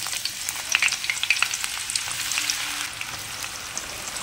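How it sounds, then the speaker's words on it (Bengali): Onions frying in oil in a kadai for chicken biryani, giving a close, continuous crackling sizzle with small scattered pops and stirring scrapes, and no talking. "ওই কড়াইতেই তেল দিয়ে আমি পেঁয়াজগুলোকে ভেজে নিচ্ছি"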